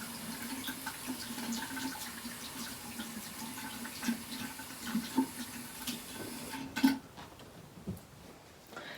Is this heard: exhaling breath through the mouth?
no